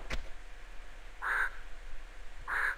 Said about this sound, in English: you'll notice more crows coming over